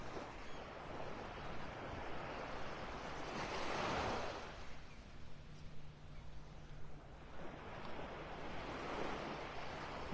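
Surf washing onto a beach in North Naples, Florida, with broad, hissing swells that build and recede, one peaking around the middle and another near the end, alongside steady wind-like wash and no talking.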